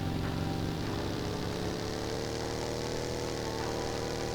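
A motorbike engine in PUBG Mobile on the new Erangel map drones steadily and loudly, running as a continuous mid-pitched hum throughout with no break.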